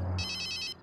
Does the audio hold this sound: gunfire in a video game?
no